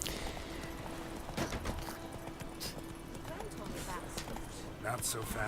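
Hooves of the horse Roach clip-clop at a gallop in The Witcher 3, a quick steady rhythm of thuds close by, with someone talking over them and a brief whinny.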